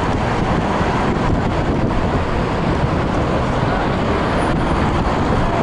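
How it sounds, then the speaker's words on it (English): Dense, constant midday city traffic noise in Portland, Oregon, a loud broadband roar of passing vehicles mixed with wind buffeting the microphone, with no breaks. "Just as much traffic as the cross Bronx"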